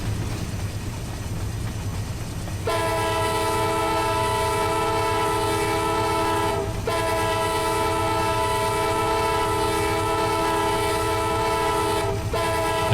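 An Amtrak Auto Train running in the Run 8 Train Simulator game sounds a loud, sustained multi-tone horn. The horn cuts off briefly twice, over a low rumble of rolling stock.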